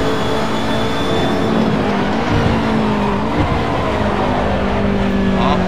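A BMW E30 Group A race car drives in the video game Assetto Corsa at Mugello, its engine droning loud and steady with shifting pitch as it accelerates and brakes, tires scrubbing faintly underneath.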